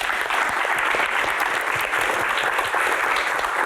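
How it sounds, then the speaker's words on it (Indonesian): Loud, sustained applause from a studio audience at a talk show, a thick continuous clatter of many hands with no pauses. "Tepuk tangan."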